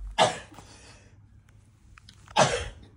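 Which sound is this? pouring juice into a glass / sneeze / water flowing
sneeze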